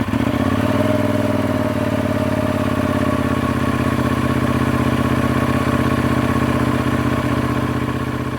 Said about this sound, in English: the main thing that disappointed us about the Leoncino Trail was the sound of that exhaust.